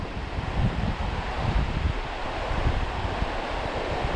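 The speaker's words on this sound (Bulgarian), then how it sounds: "Вятъра обърка работа." Steady wind blowing across a lake while fishing at Pancharevo, a broad continuous rush with buffeting gusts against the microphone and no talk.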